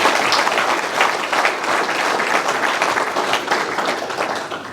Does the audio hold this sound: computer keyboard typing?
no